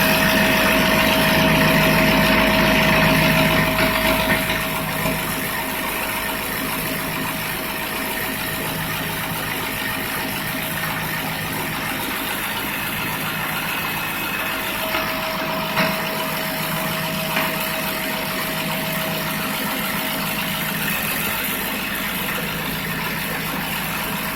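A generator engine set up as a free-energy proof-of-concept runs steadily at a fast idle with a constant hum and a whining tone, loud and close, slightly louder in the first few seconds, with no talking.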